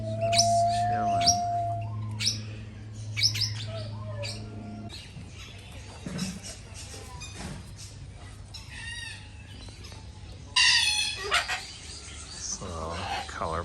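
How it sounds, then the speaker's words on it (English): Colorful parrots and cockatoos in the Blue Mountains of Australia call out with harsh squawks and screeches of varying loudness, some near and some farther off, alongside other bird sounds and a few distant voices. "So colorful birds, some parrots, cockatoos, other making noise."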